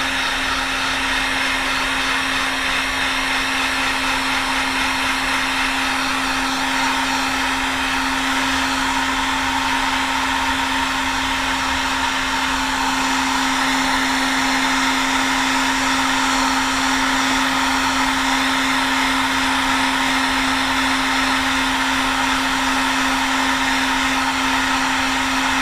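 Heat gun on its low setting blowing hot air during motherboard reflow work, a loud, steady whirring hum with a constant tone that runs unbroken and close throughout.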